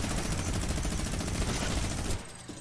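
Rapid, continuous minigun fire in the video game Fortnite, a dense loud roar of shots lasting about two seconds before cutting off abruptly.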